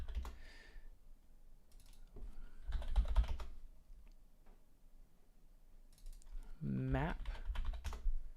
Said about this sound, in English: Let's type in level design.